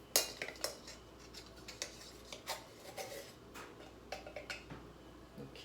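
A metal teaspoon scooping and measuring baking powder in a small galley kitchen, a series of light clinks and taps against the container, faint and close, without talking.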